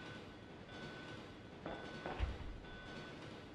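A train runs steadily in Resident Evil 2, a low continuous rumble with faint whining tones and a couple of muffled clunks from the carriages, heard alone and fairly quiet.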